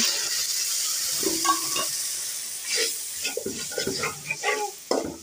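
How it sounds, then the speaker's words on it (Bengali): Fried onions stir-fried with turmeric, chili and salt for a fish bhuna, a hiss of sizzling oil with irregular scraping strokes of a spatula across the pan, close and moderately loud. "এখন হলুদ মরিচ দিয়ে দিলাম, লবণ। এখন এগুলো কষাবো।"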